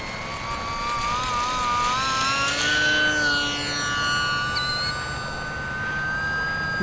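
A small E-Flite UMX Pitts S-1S RC model airplane flies overhead, its thin, high electric motor whine rising and falling in pitch as it passes at moderate distance, fairly faint against outdoor air.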